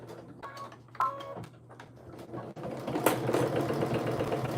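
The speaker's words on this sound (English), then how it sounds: "I'm gonna go ahead and back stitch." A sewing machine back stitches on a tee: a few sparse mechanical clicks and ticks, then the motor picks up into a steadier, moderately loud whirring run.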